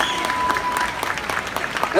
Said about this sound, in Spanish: Y ahora, dádemos un aplauso, por Dios.